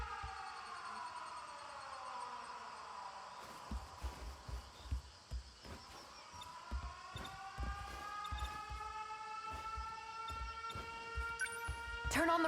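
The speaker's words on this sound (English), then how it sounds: "Air raid alarms have been sounded." A wailing air raid siren in the video game 13 Sentinels: Aegis Rim rises and falls in long sweeping tones, with a second wave swelling back in, layered under game music and faint rhythmic thumps.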